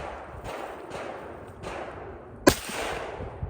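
A single sharp crack from a Ruger Precision bolt-action rifle in .22 Magnum, fitted with a cheap scope, rings out near the microphone against steady outdoor background noise, followed by a faint smaller tap.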